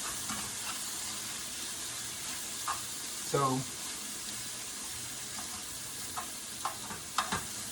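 Sizzling and crackling of teriyaki chicken yakisoba noodles stir-frying in a hot pan, with brief scraping and clattering from stirring, close by, with a voice briefly heard.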